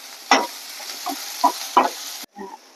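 Onion tipped into hot oil already holding chillies and garlic, crackling and frying in a few distinct bursts with quieter sizzling between, close and fairly loud, ending with a brief gap and another short burst.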